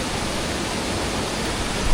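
Fruitbat Falls, a waterfall swimming hole in Cape York, pours out a dense, steady broadband rush that stays constant and fairly loud with no voices.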